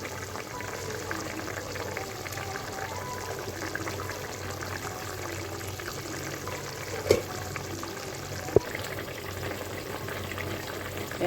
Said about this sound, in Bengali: এবার আমি আস্তে করে বেগুনটা দিয়ে দেবো